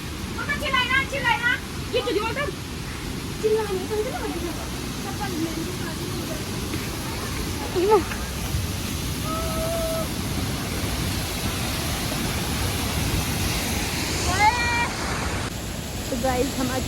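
A large waterfall at Atri Muni roars as a steady, broad rushing wash throughout, while people talk over it and occasional birdsong chirps cut through.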